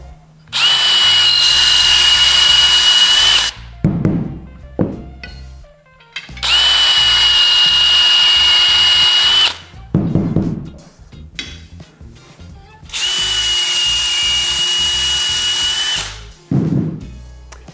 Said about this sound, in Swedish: Så jag har en sån liten fin stålborste där, förstår ni? En fin liten borrmaskin och sen så bara kör jag.